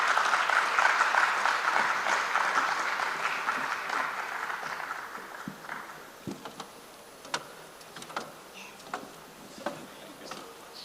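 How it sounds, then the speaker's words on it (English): Audience applause at the Africa Social Impact Summit, a loud burst of clapping that fades over about six seconds into a few scattered claps. "Do keep the applause going for Elsie Atafwa, Resident Representative"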